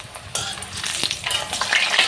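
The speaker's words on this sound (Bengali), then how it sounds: "প্রথমে আমি আলুগুলোকে ভেজে নেব" Potatoes fry in hot white oil with a continuous crackling sizzle, punctuated by scraping stir strokes, close and loud throughout.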